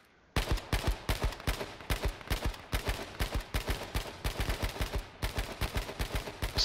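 Sustained rapid gunfire in H1Z1, a long string of evenly spaced, punchy shots in quick succession, loud and close, with only brief pauses between bursts.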